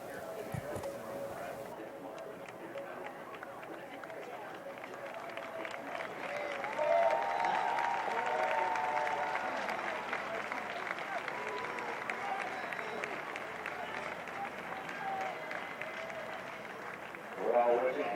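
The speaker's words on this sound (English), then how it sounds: "Fans, thanks for cheering him on" Stadium crowd at an Australia versus Seattle game applauding and cheering an injured player, a steady broad wash of clapping and crowd noise that swells midway and again near the end, with a commentator talking over it.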